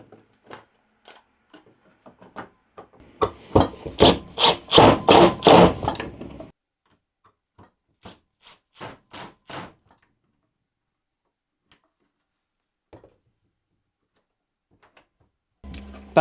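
Screws driven into a wooden block for a portable folding table make a short burst of rapid, grinding driver pulses close by, followed by scattered single clicks and taps with long quiet gaps.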